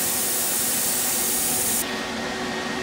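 Compressed air hisses steadily from an air compressor feeding a plasma cutter at around 80 psi, a loud broadband rush that drops slightly in brightness partway through but carries on with no voices.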